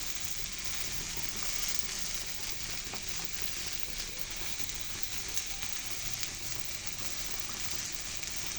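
Tomatoes fry in a pan as dried chili paste goes in, a continuous even sizzle holding steady at moderate level throughout, with no talking.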